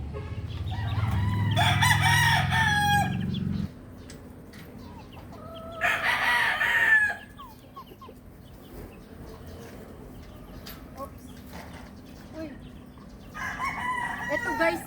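A rooster crows loudly three times with long pauses between, while hens cluck softly in the background.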